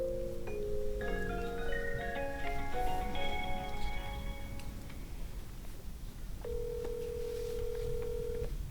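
A mobile phone call is dialed with a quick series of soft electronic key tones, followed by a steady ringback tone at a moderate level against faint background noise.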